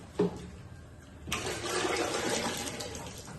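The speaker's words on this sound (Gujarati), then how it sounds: "હવે અત્યારે મારી બેન પાણી નાખી રહે છે, જોઈ શકો છો તમે" Water poured into a cooking pot: a short clink, then a sudden loud, continuous gushing stream that holds steady to the end, close to the microphone and without speech.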